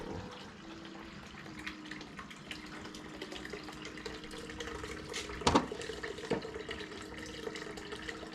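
Water runs steadily into an Infinity VDR gold cleanup sluice during a final gold cleanup, a continuous hiss and splash with a brief louder gush near the end.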